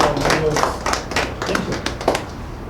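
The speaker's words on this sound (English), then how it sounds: "give him a round of applause for him" An audience at a training session claps for a speaker, a short burst of dense, fairly close applause with irregular hand claps.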